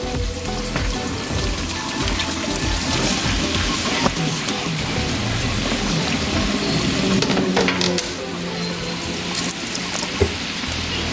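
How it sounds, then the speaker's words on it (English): Cabbage hits a hot frying pan with bacon and fries in a loud, continuous crackling sizzle, close up and dense like heavy rain, with scattered pops and no talk. "Okay, so now I'm gonna add in my cabbage."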